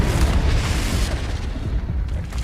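A Confringo fire-blast spell explodes in the Hogwarts Legacy game: one loud, deep boom up close that fades into a rumbling roar over a couple of seconds.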